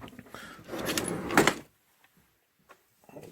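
A drawer on an electronics workbench slides open with a rolling, scraping rumble that ends in a sharp clunk, followed by near silence and a couple of faint small knocks.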